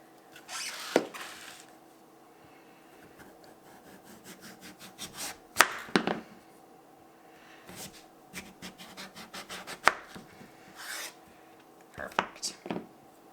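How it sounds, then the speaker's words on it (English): Knife cutting butternut squash into bite-sized chunks for roasting, sharp scraping chops and board knocks coming in scattered bursts, close and moderately loud, with talking in between. "we're going to go ahead and slice again, because we want these to be in bite-sized chunks"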